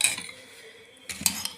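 A metal spoon clinks and scrapes against a cooking pot as tomato paste goes in, a few quiet sharp taps with a pause between them.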